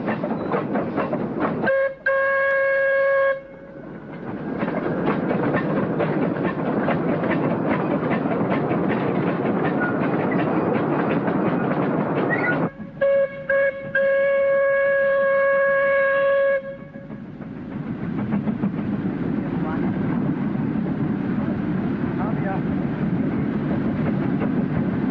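Train on an industrial railway line, rumbling and clattering steadily nearby for the whole stretch, with a tonal horn or whistle sounding twice for a few seconds over the rolling noise.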